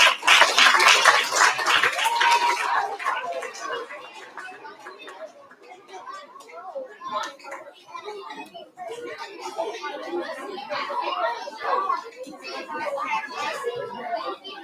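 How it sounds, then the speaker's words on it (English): At an elementary school recognition ceremony, a loud round of audience applause ends after a few seconds, then children chatter and talk in the room. "Let's give our transportation nominations a final round of applause."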